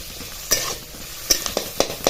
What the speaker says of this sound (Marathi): कांदा चांगला लाल होईस्तोवर परतायचा आहे